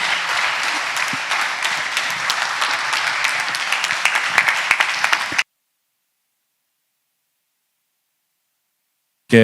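Church congregation applauding to welcome the pastor at a revival service, a loud steady burst of clapping for about five seconds that then cuts to silence before a brief sound at the end.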